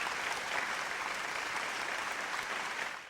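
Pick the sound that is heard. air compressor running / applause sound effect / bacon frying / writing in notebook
applause sound effect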